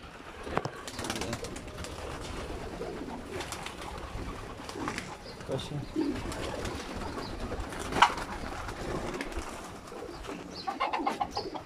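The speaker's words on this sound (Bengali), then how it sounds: "একটা শুধু একটা কবুতর আছে বন্ধুরা।" A single pigeon softly coos at a distance against a steady background hum, with one sharper clack partway through and no clear speech.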